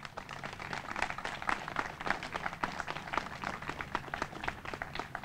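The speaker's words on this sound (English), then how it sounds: "So I need to give the coalition who brought us all together to make sure that this would happen a big round of applause." Audience applause for the coalition at the Westside Grows Park groundbreaking ceremony: steady, dense clapping from a crowd that holds an even, moderately distant level for about five seconds.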